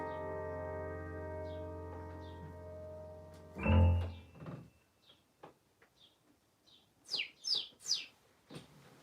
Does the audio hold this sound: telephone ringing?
no